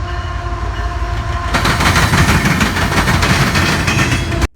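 CN 3015 locomotive hauling a train, its rumble building before a sudden louder burst of engine and wheel clatter as it passes close, then cutting off abruptly at the end.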